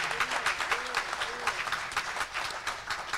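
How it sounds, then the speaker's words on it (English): A church congregation claps for the choir in a brief, fairly faint burst of applause, with a voice audible partway through. "Will you give this choir a hand clap of praise?"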